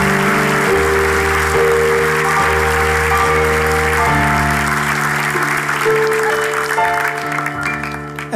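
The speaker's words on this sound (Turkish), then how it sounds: "Kayınpederle damadı alkışlarla gönderiyoruz." Loud studio audience applause on a Turkish television show mixes with prominent, steady music, the clapping a broad hiss of many hands beneath sustained melodic tones.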